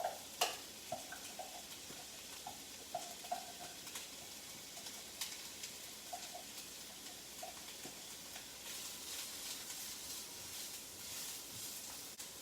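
Onions cooking in a pan give a quiet, steady sizzle with a few sharp utensil taps and stirring clicks early on, close but faint, with no talking.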